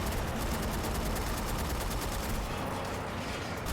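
Sustained gunfire in the shooter game Haze: dense, loud, continuous rapid shots forming an unbroken wall of noise throughout, with no talk.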